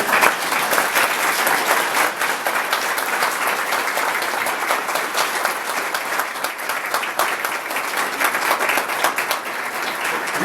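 An audience at a scholarship awards luncheon breaks into loud, sustained applause for the scholarship recipients, with dense clapping filling the room without letup for about ten seconds.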